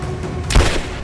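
A single sharp gunshot blast in Rise of the Tomb Raider cuts through steady low background noise, loud and close, over in an instant.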